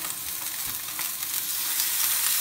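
A seabass fillet sizzles skin-side down in a hot pan, a steady dense crackle of frying that holds close and even throughout, with no voices.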